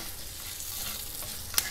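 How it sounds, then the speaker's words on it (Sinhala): Dried fish sizzling in hot oil, stirred with a spoon. A steady frying hiss carries faint scraping strokes and ends in one sharp metallic clink near the close. "මේ කරවල ටික රන්වන් පාට වෙන තෙක් හිමි සැරේ අපි හැඳි ගගා මේක චුට්ටක් බැදගමු."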